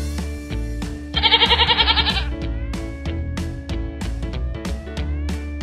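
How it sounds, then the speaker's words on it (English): A goat bleats once in a loud, wavering burst over a bouncy children's farm song with steady percussion and music throughout. "Where's the goat?"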